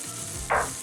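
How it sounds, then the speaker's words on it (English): Onion, celery and garlic sweat in a pan with salt and pepper, giving a soft steady hiss that swells briefly louder for a moment midway, with no talking. "And actually turn down the heat and sweat this onion with our chopped garlic"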